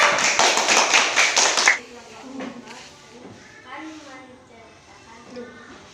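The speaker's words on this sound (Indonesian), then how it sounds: "Tepuk tangan untuk kelompok 4." Applause for group 4 in a classroom, a burst of brisk clapping from many hands for under two seconds, then quieter room sounds with voices talking afterward.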